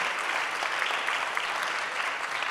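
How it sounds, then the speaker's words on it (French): Dense, even applause from a large audience fills the room without pause, loud and steady throughout. "je vous demande d'applaudir à l'accordéon Vanessa Rousseau Folenfant."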